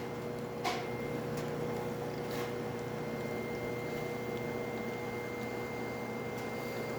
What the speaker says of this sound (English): Steady stream coming out of the machine